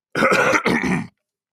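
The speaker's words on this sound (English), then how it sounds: "I gotta clear my throat" A person clears their throat twice in quick succession, close and loud, followed by silence.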